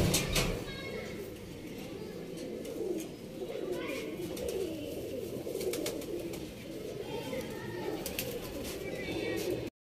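Pigeons coo in a loft, a constant layered murmur of low burbling calls, with someone talking over them and sharp clicks and rustles close by.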